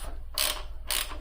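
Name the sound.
tightening bolt on motorcycle shift lever with wrench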